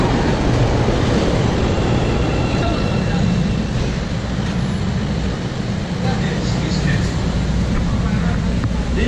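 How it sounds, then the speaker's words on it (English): A Chicago subway train rumbles loudly and steadily throughout, a dense continuous roar of wheels and car noise close by, with no clear speech standing out. "Trains don't wait for you to get on in Chicago."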